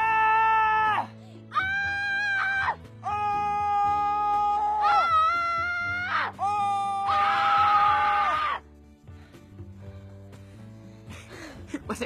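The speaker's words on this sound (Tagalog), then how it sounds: "Pero alam mo, try mo sumigaw." A person screams out loud in a series of long, sustained, piercing cries separated by short breaths, loud and close, followed by quieter rustling.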